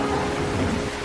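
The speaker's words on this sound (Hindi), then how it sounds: "बारिश शुरू हो गई" Steady rain pours down in a dense, even hiss with a low rumble underneath, like thunder rolling during a storm.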